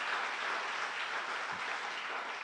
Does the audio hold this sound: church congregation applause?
yes